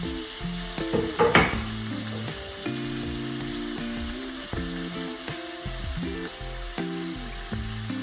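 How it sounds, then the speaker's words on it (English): Meat searing in a hot oiled pan, a steady close sizzle with a burst of louder spitting early on as pieces hit the pan, and music playing underneath throughout. "Just sear them on each side."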